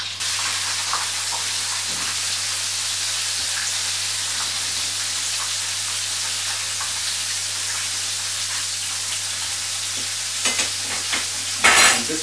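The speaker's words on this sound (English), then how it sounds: "Make sure you turn it. So it's all coated in the oil. Be careful, it does bubble up sometimes," Money bags deep-frying in oil give a steady, loud crackling sizzle for the whole stretch, with a few sharper spatters and utensil knocks near the end.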